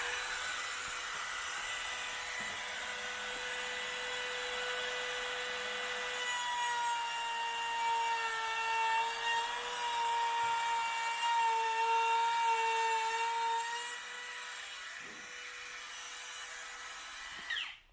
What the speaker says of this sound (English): I can run the router against it.